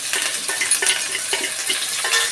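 Chili, ginger and curry leaves fry in a pan with a steady bright sizzle, broken by repeated scrapes and clinks of a spoon stirring against the metal.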